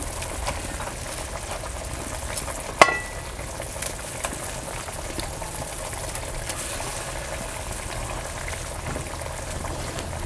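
Egg paneer pieces simmer in a masala gravy in a pan, giving a steady, faint bubbling and sizzling hiss throughout, with one brief clatter.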